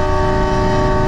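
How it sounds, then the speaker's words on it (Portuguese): A loud ship's horn fitted to a car blares in one continuous, steady tone that is close, very loud and unbroken for the whole moment. "vamos ficar com a buzina acionada, porque eu tô cansado."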